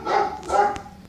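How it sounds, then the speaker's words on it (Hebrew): A dog barks twice close by in quick succession, short sharp yelps with a little trailing noise after. "אם אתם שומעים נביחות של כלב,"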